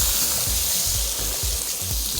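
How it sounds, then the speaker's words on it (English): Riesling wine poured into a hot pan with a rib roast gives a loud, continuous sizzle and hiss with faint stirring pulses, close and alone. "I'm going to pour that in. Again, you're going to hear that sizzle."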